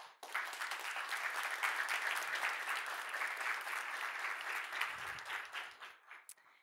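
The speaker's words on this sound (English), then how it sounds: "Big applause." Sustained applause from a conference audience at a leadership academy panel in Sundbyholm, dense and steady for several seconds before tapering off near the end.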